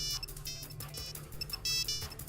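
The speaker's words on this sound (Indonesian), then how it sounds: "Nggak lama, telepon saya berbunyi." A phone ringtone chimes in a quick electronic melody of bright, repeating tones, fairly quiet and heard alone.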